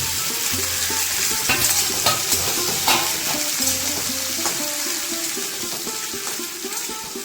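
Pumpkin and Malabar spinach stalks sauté in a pan with a loud continuous sizzle and busy stirring clatter throughout, with a low hum underneath and no talking.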